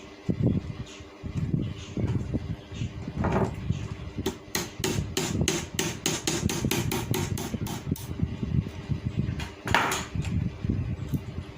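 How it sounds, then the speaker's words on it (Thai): Rapid metallic taps ring out as a blade lock pin is hammered on a Hatari electric fan during repair, a quick run of sharp strikes over rustling handling and background noise. "ทีนี้ก็ตอกสลักล็อกล็อกใบนะครับ"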